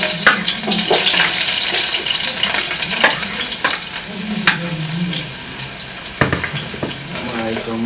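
Onion frying in a pan as the base for a Somali-style yellow split pea stew: a loud, close, steady sizzle, broken by occasional sharp clicks and clatters from stirring.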